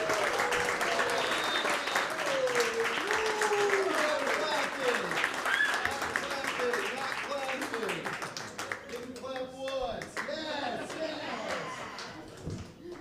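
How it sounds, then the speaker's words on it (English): Loud, sustained applause and cheering from a comedy club audience at Go Bananas Comedy Club, welcoming a comedian to the stage. The dense clapping runs throughout and eases slightly toward the end, with voices mixed in. "Make some noise for one of my favorite comedians ever."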